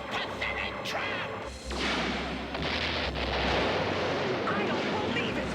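A loud, sustained roaring energy blast with crackling bursts and heavy rumble, a cartoon particle beam cannon firing in Dino-Riders, filling the whole moment.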